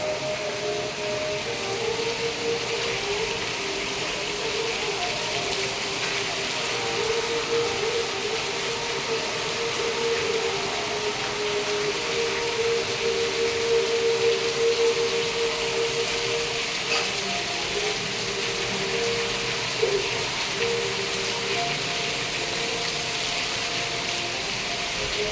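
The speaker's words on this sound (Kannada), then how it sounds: "ಫುಲ್ ಜೋರು ಬರ್ತಾ ಇದೆ ಮಳೆ" Heavy rain pours down in Hubli, an unbroken broad hiss that stays steady and fairly loud throughout, with no voices.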